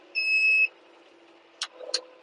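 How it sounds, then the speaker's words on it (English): A tractor cab alarm gives one steady, clear electronic beep while barley is being drilled, followed by quieter clicks and short bursts over a low engine hum. "Bit of beeping here and there."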